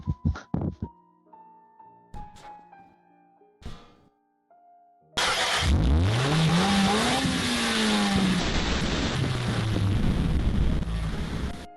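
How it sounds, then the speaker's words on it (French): A car engine roars loudly and revs in rising and falling sweeps after a few seconds of sparse clicks and quiet, then holds a sustained, dense roar to the end. "Vous venez encore entendre le bruit du moteur"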